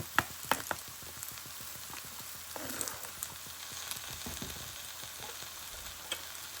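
Prawn noodles sautéing in a pan with a splash of soy sauce give a lively, close sizzle and crackle, punctuated by regular sharp taps and scrapes of a utensil stirring and tossing.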